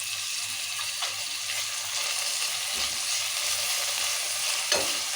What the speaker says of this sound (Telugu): ఇప్పుడు ఈ కొత్తిమీర పుదీనా తాలింపు వేస్తే మంచిగా నూనెలా ఉడుతుంది కదా